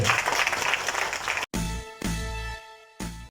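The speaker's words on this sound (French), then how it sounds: "Sous vos applaudissements, mesdames et messieurs." Audience applause at a factory production line inauguration ceremony, a short dense burst of clapping that cuts off abruptly and gives way to sustained tonal sound.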